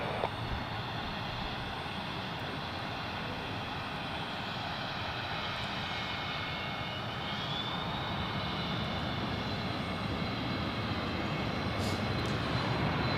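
At Zurich Airport an airplane takes off from runway 28, its jet engines roaring in a steady, loud broadband rumble that swells slightly toward the end, with no voices.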